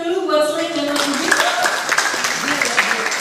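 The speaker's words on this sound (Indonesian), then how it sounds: "Kita tepuk tangan dulu buat Slang dan Mas Budi." Audience clapping at a panel discussion on violence against women in a Jakarta cultural hall, steady applause rising under a speaker's continued talk.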